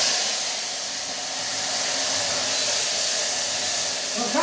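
Asafoetida, mustard seeds and cumin sizzling in hot oil in a home kitchen, a steady, close, broadband hiss that holds evenly and swells slightly toward the end, with no talk.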